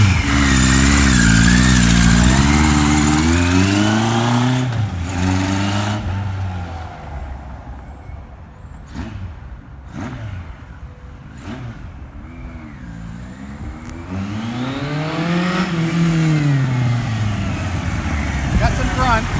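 A 1978 Kawasaki KZ1000 motorcycle fitted with a Wiseco big bore kit revs hard in gear. The engine note climbs and falls in loud, close sweeps, eases off in the middle and rises again toward the end.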